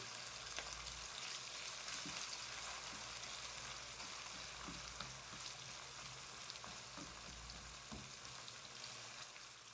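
A soft, even sizzle of onions frying in a pan on a medium flame runs throughout, with occasional faint pops and small clicks over a low background hum.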